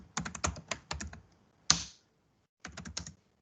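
Keys clatter on a computer keyboard as a gdb debugger command is typed, in two quick bursts of close, crisp keystrokes with one sharper key hit between them.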